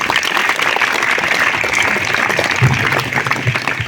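Applause from a school audience at a Hindi poetry recitation competition rolls on steadily for several seconds, dense and fairly close, with a few low thumps near the end.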